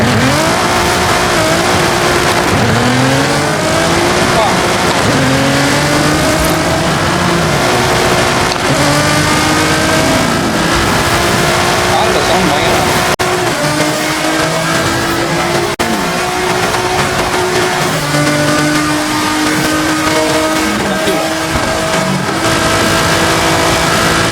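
A car engine revving hard in the Forza Horizon 5 video game, loud and continuous, with repeated rising pitch sweeps through the gears and no talk.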